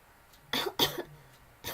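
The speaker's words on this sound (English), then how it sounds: "while a new coughing fit erupted" A coughing fit: several sharp, close coughs in quick succession, a pair of harsh bursts followed by a pause and another cough, with no talking.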